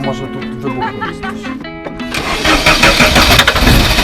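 An old van's engine is cranked and started late at night on a road trip through Scandinavia, first with a few harmonic whirs, then catching into a loud, steady broadband roar that continues to the end.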